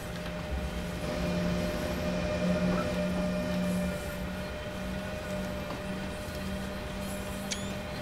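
A BR 185.2 electric freight locomotive in Train Sim World 3 runs with a steady motor whine and rolling rumble, droning tones rising and holding, a faint click near the end.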